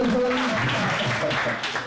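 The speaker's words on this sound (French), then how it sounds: "On va applaudir" Audience applause breaks out at a press conference launching a single, steady and fairly loud for a couple of seconds, with a voice talking over the clapping.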